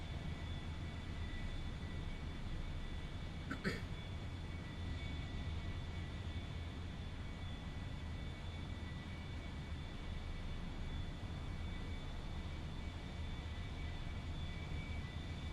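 A small airplane in flight with its landing gear down and the throttle being eased back: a steady, continuous engine drone heard from inside, moderately loud and unbroken throughout, with one brief faint click partway through.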